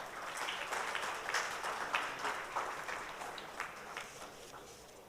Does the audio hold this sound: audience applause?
yes